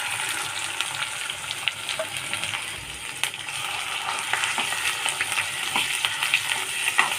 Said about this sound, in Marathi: मसाला छान परतून घ्यायचा आपल्याला तेलामध्ये.